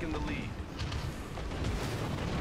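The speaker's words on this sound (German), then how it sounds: "Jetzt werden wir aber hier beschossen." Heavy naval gunfire and shell impacts pound a warship in World of Warships, here the British battleship HMS Warspite: a dense, continuous roar of booming blasts and rumble, with a few sharper bangs rising from the din.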